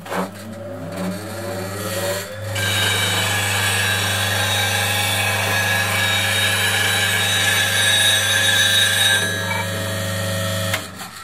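A bench grinder runs steadily, sharpening a wood-turning chisel for lathe work, its loud continuous whine and hum holding for about ten seconds after a brief start-up.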